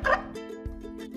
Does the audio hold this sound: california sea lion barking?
yes